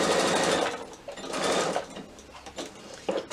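Sewing machine stitching straight over a row of earlier stitches on a small batik wallet, running in two or three close bursts with short pauses between them.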